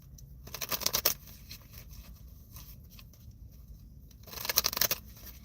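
Tarot cards are shuffled in two crisp riffling bursts, one early and one near the end, with quieter handling of the deck between them and no talking.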